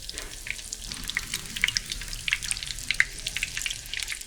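Eggplant frying in a pan, a steady soft crackle and sizzle with scattered spitting pops, close but fairly quiet.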